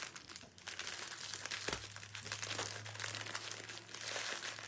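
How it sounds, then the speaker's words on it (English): Clear cellophane is bunched up by hand and crinkles continuously, a dense crackling rustle held close, with a brief thump partway through and no voices. "So I'm just going to like gather up my cellophane."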